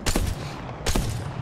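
Two separate bursts of Apex Legends gunfire, each a short sharp crack with a decaying tail, close and fairly loud with no voice over them.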